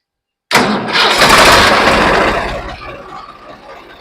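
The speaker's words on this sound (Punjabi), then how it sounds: "ਟਰੈਕਟਰ ਆਪਾਂ ਸਟਾਰਟ ਕਰਕੇ ਦਿਖਾਉਣੇ ਸਾਨੂੰ ਬਹੁਤ ਤਕੜੀ ਆਵਾਜ਼ ਵੀ ਹੈ ਟਰੈਕਟਰ ਦੀ" A Swaraj 855 tractor engine abruptly cranks and roars to life after a moment of silence, loud and close, then settles into a lower, steady idle.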